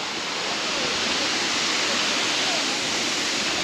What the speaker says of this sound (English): Here we go, some waterfall action.